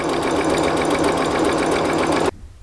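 A sewing machine runs steadily and close up as it stitches fabric for a bag, with a continuous loud whirring hum that stops abruptly near the end.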